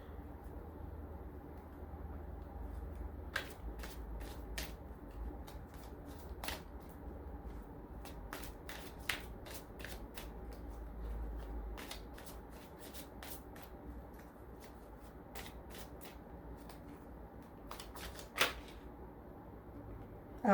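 Oracle cards being shuffled in the hands, heard as soft, quick irregular clicks and flicks scattered over a quiet room hum with no talk.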